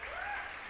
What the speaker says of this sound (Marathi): तर जोरात टाळ्या वाजून आपण त्यांचं स्वागत करूया.